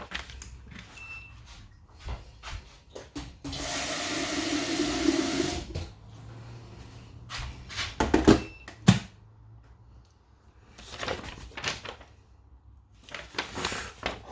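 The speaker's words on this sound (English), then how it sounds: "So I filled the kettle with some water." Tap water runs into a kettle for a couple of seconds as a steady, close, hissing gush, surrounded by quieter kitchen clatter and handling sounds.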